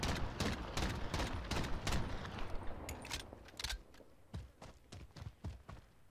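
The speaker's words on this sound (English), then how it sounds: "I'm just going to spam the trigger as fast as I can and look at where the bullet spread is" Rapid gunfire from a weapon in Warzone, sprayed at a wall: a dense burst of quick shots for about two seconds, then several shorter bursts of separate shots, loud and close, with no talking.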